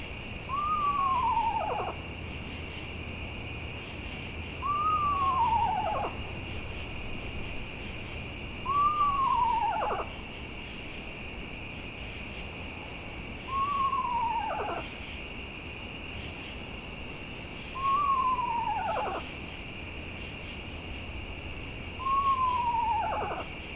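Six owl calls, each a falling hoot repeated at steady intervals of about four seconds, over a constant high insect drone at night.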